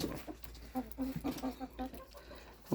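Older hens cluck softly in a small backyard flock kept alongside pet goats, a handful of short murmuring calls spaced across a few seconds at close range.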